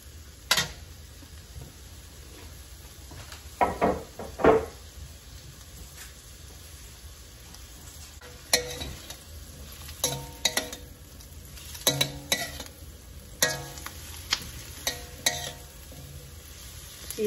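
Garlic, onion and pepperoni frying in butter in a paella pan, with a soft steady sizzle under sharp clinks and scrapes of a utensil stirring against the metal pan in scattered bursts.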